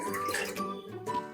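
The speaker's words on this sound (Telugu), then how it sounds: "ఈ ముక్కల్లో 2 గ్లాసులు వాటర్ పోసుకోండి." Two glasses of water pour onto cut vegetable pieces in a pot, a short gurgling splash with a ringing, shifting tone lasting just over a second, close and fairly quiet.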